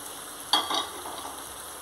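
Okra sizzles in a hot pan, a short burst of crackling frying and stirring that flares up briefly and then settles to a soft hiss.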